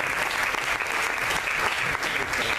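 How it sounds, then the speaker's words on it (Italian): Warm applause from the audience in the hall honouring the family of Gino Agostini at a Festa dell'Unità award ceremony, a steady dense clatter of many hands at close range with no break throughout. "Io vorrei applaudirle calorosamente"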